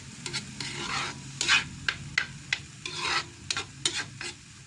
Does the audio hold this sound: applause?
no